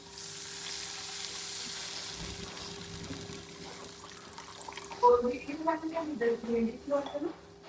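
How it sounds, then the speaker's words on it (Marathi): A pan of homemade vegetable Maggi with magic masala sizzles steadily, then water is poured in, giving a bubbling, spattering burst with clinks of utensils; a voice speaks over it. "थोडं पाणी घालून घेऊ"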